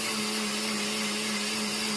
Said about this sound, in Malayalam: സകല സാധനങ്ങളും അതിൻ്റെ ഉള്ളിൽ ഇട്ടിട്ട് പിന്നെ അങ്ങോട്ട് മിക്സി അടിച്ചിട്ട്